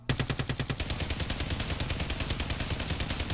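STG-44 assault rifle hip-fired at a video game shooting range, a fast, evenly spaced burst of loud, close automatic shots that runs steadily and unbroken.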